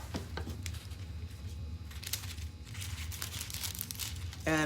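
Deep blue pebble foil crinkling against an ornament coated with navy blue metallic paint and foil adhesive, a soft, faint rustle that runs steadily throughout, with a brief louder crackle at the very end.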